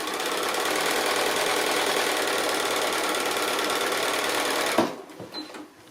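A sewing machine stitches a regular 1/4-inch seam on a small fabric card wallet, a steady, fast, close mechanical whir that runs loud and unbroken before stopping abruptly near the end.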